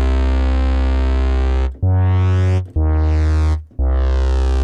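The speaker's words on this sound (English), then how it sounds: "So you get that vowel sound when you add more envelope rise." Deep synthesized bass from Ableton Operator with an envelope-follower filter opening into a vowel-like sweep, played as four sustained, loud notes with short gaps, each note's tone brightening and growling as the filter opens.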